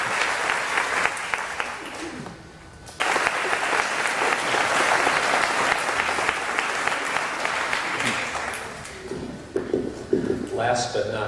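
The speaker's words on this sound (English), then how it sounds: "Let's give them a round of applause too." An audience at a 5th grade graduation ceremony gives a sustained round of applause, a dense wash of clapping that swells and carries on for several seconds, with a speaker's voice heard around it.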